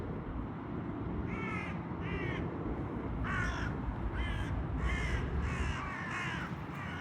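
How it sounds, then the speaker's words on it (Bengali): Crows caw repeatedly in rhythmic bursts of two or three calls over a steady outdoor background hiss on a walk past daffodil beds, fairly distant and moderately faint. "পাখিগুলো ডাকছে"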